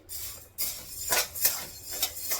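A utensil scrapes and rasps across wheat grains roasting on low heat in a dry pan, in several quick stirring strokes close by, with no talking.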